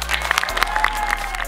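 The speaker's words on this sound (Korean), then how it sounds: "우리 모두를 위한 박수 한번 칠까?" Brief burst of audience applause at a graduation exhibition event in an art hall, dense lively clapping from a crowd close by, lasting only a moment.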